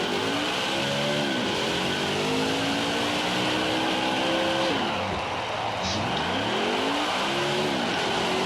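A race car's engine revs hard and rises and falls in pitch during a burnout at the start-finish line in the NASCAR Heat 5 racing game, loud and steady throughout.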